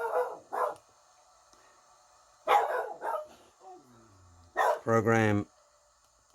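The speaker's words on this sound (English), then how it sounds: "don't know whether you hear, hopefully it's the dog's not too much disturbance" A dog barks a few times indoors in short bursts, some sharp and some whining, with someone talking quietly between them.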